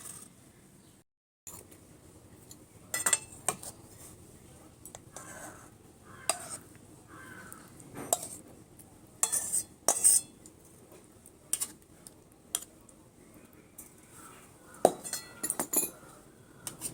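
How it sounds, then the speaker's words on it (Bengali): Cooked taro greens scraped from a metal pan onto a plate, giving scattered light clinks and scrapes of utensil against metal and dish, quiet and close, with pauses between strokes. "শাকটা আমি এবার এই থালার মধ্যে ঢেলে দেব।"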